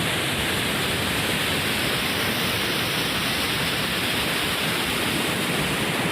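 Loud rushing water thunders past a bridge in Kutch, India, a dense, unbroken roar filling the whole stretch at close range with no voices.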